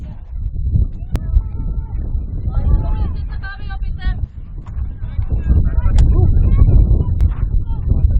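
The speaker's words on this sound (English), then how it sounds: "It started to get windy here." Wind buffets an outdoor microphone as a storm approaches during a quidditch match in Ljubljana, a steady loud rumble that swells toward the end, with faint voices and whistles in the background.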